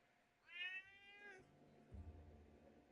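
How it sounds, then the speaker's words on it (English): A pet cat gives a single drawn-out meow somewhere in a quiet room, fairly faint and alone, followed by low muffled thumps. "excuse my cat in the background"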